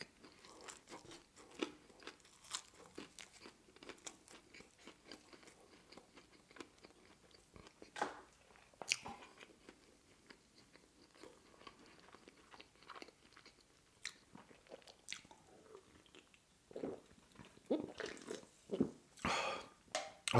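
Someone eats a Persian deli sandwich with fries, close crunchy bites and wet chewing repeating irregularly, with breaths and soft mouth sounds between bites and no talking.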